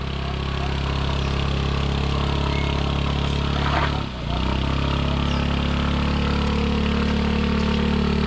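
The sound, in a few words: motorcycle engine running on steep trail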